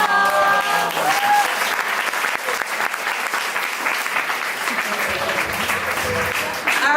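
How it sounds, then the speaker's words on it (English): An audience at a school poetry night claps steadily, with thick, sustained applause filling the room from start to finish and a few faint whoops mixed in. "One more round of applause for the world's greatest poets."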